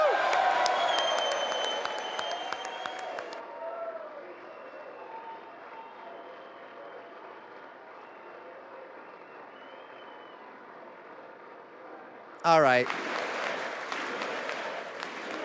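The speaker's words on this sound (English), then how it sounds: "the fascists cheering USA, USA by the Republicans" Members of Congress applaud and cheer for the President at the State of the Union address, a loud burst of clapping that fades into a long sustained crowd murmur, then a sudden sharp outburst near the end, with a voice speaking briefly.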